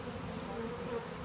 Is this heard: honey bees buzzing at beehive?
yes